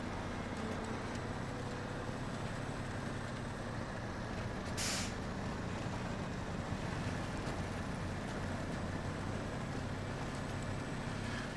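A truck engine in SnowRunner's Washington DLC rumbles loud and steady, with a brief hissing burst near the middle and no talk.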